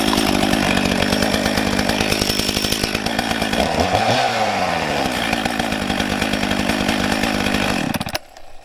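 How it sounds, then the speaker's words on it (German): A chainsaw engine running without bar and chain roars loud and steady, its pitch dipping and rising briefly midway, then cuts off abruptly near the end, leaving a faint low hum. "eine Kettensäge ohne Schiene und ohne Kette ist keine Kettensäge mehr"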